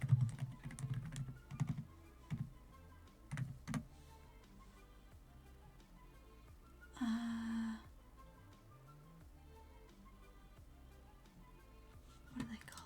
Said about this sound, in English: I have the like silent-ish keycaps.